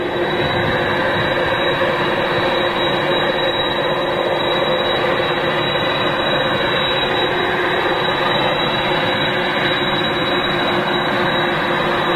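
Boeing 747 jet at Manchester Airport, a loud, steady, broadband engine roar that holds evenly throughout without voices.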